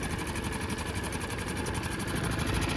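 A 2012 Honda four-stroke outboard motor runs loud and close as it is shifted into forward, giving a steady, dense mechanical drone with a fast even throb throughout.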